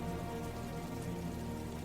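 Steady, relentless rain pours down onto the ground in a dense, even hiss, with drops spattering close by and no other sounds.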